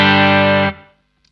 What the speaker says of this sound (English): The Bad Cat as clean boost.